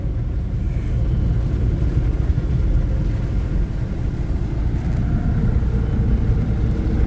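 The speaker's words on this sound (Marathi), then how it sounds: "भरपूर गाड्या उभ्या बघा, ट्रॅफिक जाम झालेली." Steady low rumble of vehicles sitting in a traffic jam on a Mumbai Agra Road flyover. The idling engines drone continuously at close range with no talking.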